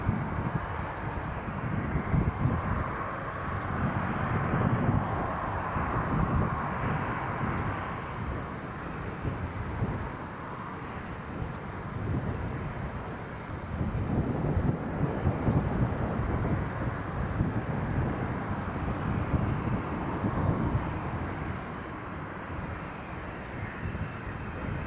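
A large Galaxy aircraft flies at Newcastle International Airport, and its deep, steady jet roar fills the air with a broad rumble that rises and falls slightly and is buffeted by wind noise.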